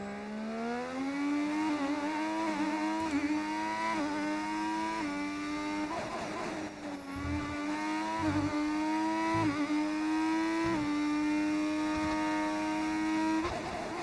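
A Formula 1 car engine in the racing game F1 25, a steady high-pitched whine rising and dropping through gear changes across the lap, close and continuous with brief dips under braking.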